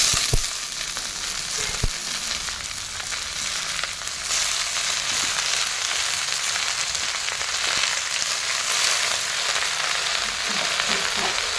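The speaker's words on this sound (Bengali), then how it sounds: "ডালটা নাড়াচাড়া করে ভাজা হয়ে গেছে, এরপরে দিয়ে দিচ্ছি ধুয়ে রাখা শাক।" Moong dal fries in a pan as washed spinach goes in, making a continuous crackling sizzle with a few sharp knocks near the start, close and fairly loud, with no voices.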